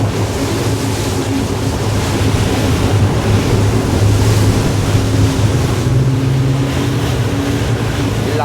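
An E-Motion 36 motorboat turns at speed on open water, its engine humming loud and steady under rushing spray, wave slap and wind buffeting.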